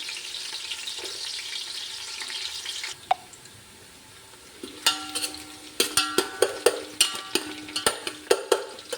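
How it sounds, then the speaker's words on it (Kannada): Onions drop into hot ghee and oil in a pan for chicken biryani, starting with a hiss, then stirring scrapes and sharp sizzling crackles in a clicking series, heard close and fairly quiet. "ತುಪ್ಪ ಮತ್ತು ಎಣ್ಣೆ ಚೆನ್ನಾಗಿ ಬಿಸಿಯಾಗಿದೆ. ಈಗ ಈರುಳ್ಳಿ ಹಾಕ್ತಾಯಿದ್ದೀನಿ."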